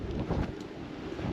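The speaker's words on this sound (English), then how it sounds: "This is definitely way more windy than was forecast." Strong wind buffets the microphone in a continuous low rumbling roar on a snowy mountain campsite, steady and close with no voices.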